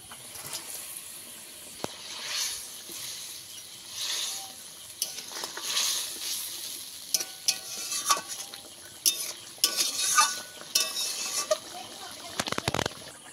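A pan of pomfret fish curry bubbles and simmers while a spoon stirs and scrapes, with intermittent clinks and sloshing that grow busier toward the end, and a voice is briefly heard speaking.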